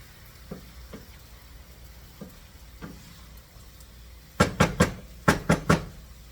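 Raw shrimp cook in a pan for a shrimp and white bean salad. A low, steady sizzle runs throughout, with a few soft knocks early on and then a loud cluster of sharp clanks near the end.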